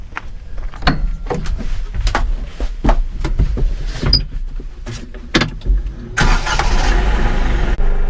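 A Bobcat tractor's cab sees clicks and clunks of someone climbing in, then the diesel engine starts with a rush at about six seconds and settles into a loud, steady close idle.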